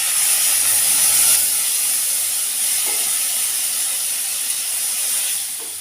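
A spice paste of mustard, cumin, ginger and green chilli hits a hot pan for a vegetable dish with okra, potato and tomato, giving a loud steady sizzling hiss close by that eases slightly toward the end.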